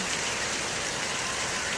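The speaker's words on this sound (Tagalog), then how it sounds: "Actually, ang lakas ng ulan ngayon." Steady, dense rain hissing continuously with no breaks, a broad wash of noise at moderate volume and no voices.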